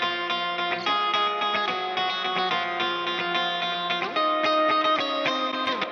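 Heavily compressed electric guitar passed through a post-amp compressor and reverb, sustained notes and chords smeared into one thick, even wash of tone with steady level and no talking.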